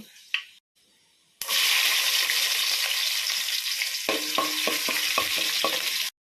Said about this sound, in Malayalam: കടുക് പൊട്ടി തുടങ്ങിയിട്ടുണ്ട് ഇതിന് ഉലുവ ഇട്ട് കൊടുക്കാം